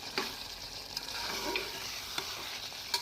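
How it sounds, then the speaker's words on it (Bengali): Mutton curry seasoned with garam masala is stirred in a hot pan, steady sizzling underneath with occasional sharp scrapes of the spoon against the metal. "তারপর আমি গরম মশলা দিয়ে দিলাম, এর মধ্যে দিয়ে ভালো করে নাড়িয়ে নিলাম।"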